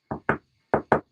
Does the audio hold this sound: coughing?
no